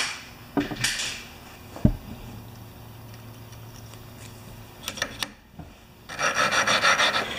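A part on a 5 HP Sno-Trac being lapped or ground by hand: a dry rasping scrape in short bursts near the start and the middle, then a longer, brighter grinding stroke toward the end, close and moderately loud with no talk.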